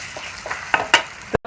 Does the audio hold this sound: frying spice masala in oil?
yes